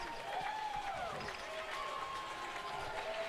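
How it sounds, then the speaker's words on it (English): Box lacrosse fans at an indoor arena cheer and clap in a steady crowd roar, with whistles and shouts rising above the din. "at the end of the game, they've been cheering a lot"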